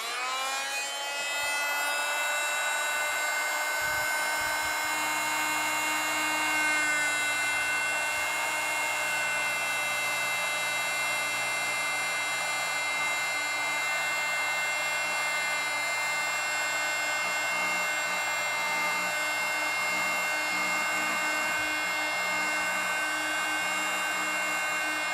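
A power tool cuts steadily through a box truck's door for a latch modification. It makes a continuous high whine for about twenty-five seconds, close and even in level, with no speech.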